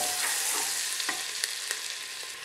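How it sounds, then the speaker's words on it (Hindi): Onions frying in butter in a pressure cooker for vegetable biryani, with bay leaf and shahi jeera, give a steady, moderate sizzle broken by a few soft stirring scrapes. "प्याज डालकर 2 से 3 मिनट के लिए भून लेंगे"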